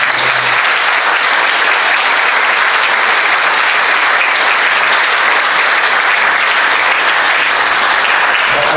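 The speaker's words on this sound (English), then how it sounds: "I think you all deserve a clap just to come turn out today" A memorial concert audience gives loud, sustained applause, a thick continuous wash of clapping that holds steady from start to finish with no speech over it.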